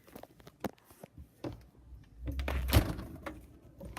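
A refrigerator door swings shut with a soft thunk around the middle, preceded by faint handling clicks and rustles nearby; no voices.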